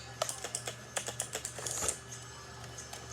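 Typing on a new computer keyboard just unboxed for gaming, a quick run of crisp key clicks and taps, close and fairly loud, with a brief pause partway through.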